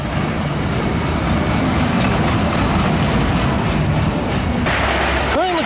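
A Cyclone roller coaster train at Wonderland Amusement Park in Amarillo, Texas rumbles and clatters along the track continuously, with a brief voice at the very end.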